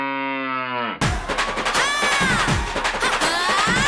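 A buffalo's long, deep moo fills the first second alone, then gives way to a loud, busy stretch of cheering crowd noise on a comedy stage.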